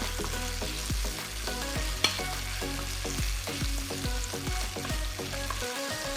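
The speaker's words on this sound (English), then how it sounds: "What I'm looking for here is that the onions become translucent, but not cooked or caramelized, because again, it is a stir fry." Onions stir-fry in a pan for beef and broccoli, sizzling steadily up close while a utensil knocks and scrapes in a regular rhythm, with no voices.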